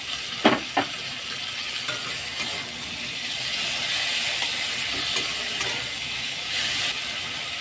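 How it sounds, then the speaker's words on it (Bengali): Small prawns coated in salt, turmeric and chili powder fry with chopped tomatoes in a pan over low to medium flame, giving a steady close hiss of sizzling and steam, with two sharp utensil knocks near the start. "লো টু মিডিয়াম ফ্লেমে 3 মিনিট ভেজে নিয়েছি টমেটো দিয়ে।"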